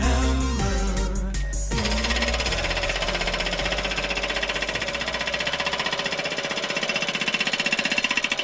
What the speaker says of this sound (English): Impact Hammer.